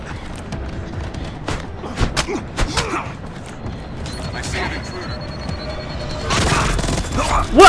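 Gunfire from Splinter Cell Blacklist, a handful of sharp shots scattered through a busy game mix, with a louder burst near the end, while voices talk over it.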